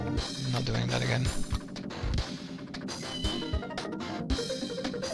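Kitten meowing in the video game Ghost Trick: Phantom Detective, a few short cries among game music and sound effects, with thumps and clatter around them.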